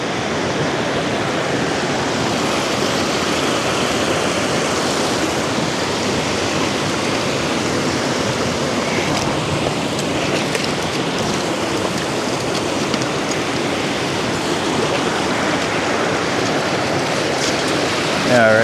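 Rushing water in a canyon near a remote cabin, a loud, steady, broadband roar of churning flow that continues unbroken and close by.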